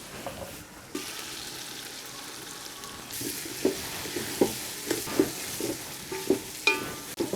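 Vegetables for a veg brinji biryani sauté in a pan with a steady soft sizzle, then a spoon stirs and scrapes in regular knocks against the metal, close and moderately loud with no talking.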